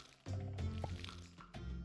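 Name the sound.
watering crops in Sun Haven video game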